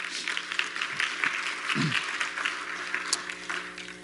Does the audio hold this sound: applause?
yes